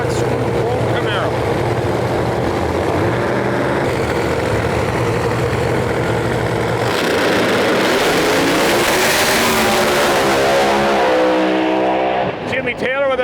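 Screw-blown Pro Mod drag racing cars, a Firebird and a Camaro, roar loudly and continuously at the track, with a sustained engine blare that swells near the end while an announcer talks over it.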